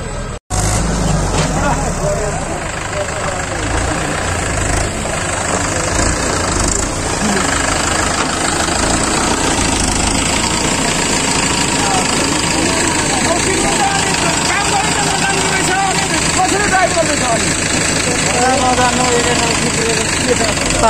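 A heavy bulldozer engine runs loud and steady at a construction site filling a soap factory foundation with gravel, a low continuous rumble with knocking throughout, and people talking over it.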